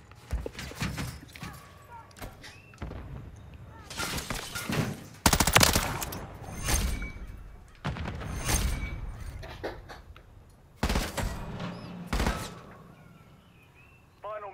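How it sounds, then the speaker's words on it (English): Video game gunfire plays in loud, irregular bursts of shots spread across the stretch, with brief pauses between volleys and talk mixed in. "Someone's shooting at me in here, Rick."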